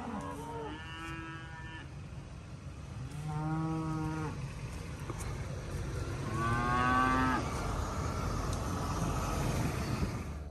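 Cattle, cows and calves, mooing in a catch pen, several loud drawn-out calls close by with steady outdoor background noise and no talk.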